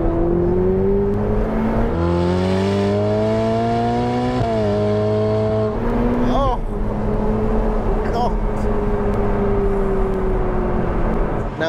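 Loud engine of a Ferrari 488 Pista Spider V8 revving up through third gear, pitch climbing steadily with a brief dip, then a howling rise, close and dominant.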